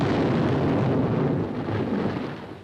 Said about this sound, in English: came the world-shaking explosions of the atomic bomb